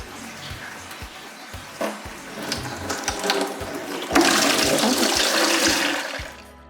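Trub drains from the bottom drain pipe of a homebrew fermenter on a Unibrau Pro system, making a gushing, gurgling rush of liquid like a flush that builds and grows louder midway, with scattered knocks alongside.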